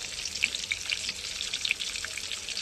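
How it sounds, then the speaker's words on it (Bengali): An egg frying in hot oil in a home kitchen, a continuous soft sizzle dotted with sharp crackling pops at irregular intervals, heard close up with no talking. "এবার ডিমটা ভাজা হতে থাক"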